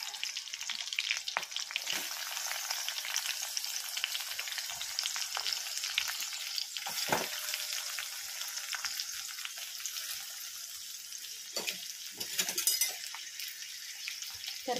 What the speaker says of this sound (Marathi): तर कांदा छान असं परतून घेणार आहोत.